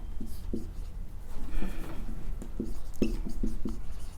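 Handwriting on a board or paper during a physics lesson on electrostatics, heard as short scratchy strokes in irregular bursts with a brief rubbing stretch, no speech over it.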